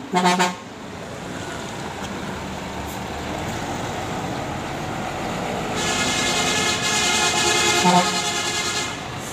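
Medan Jaya passenger train running on the Medan–Pekanbaru line and passing the Fajar Riau train, with a steady rolling rumble throughout and short horn toots near the start and end.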